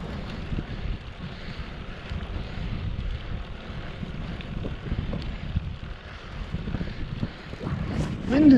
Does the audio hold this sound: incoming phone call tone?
no